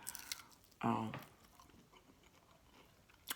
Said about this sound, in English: This still tastes good, and I'm not sure if you can still hear the crunch.